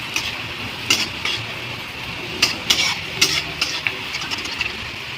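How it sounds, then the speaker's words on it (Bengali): Nimki dough pieces frying in hot, slightly darkened oil, a steady bubbling sizzle broken by several short bursts of crackle and spatter at close range. "তো আমি ভেজে নিই।"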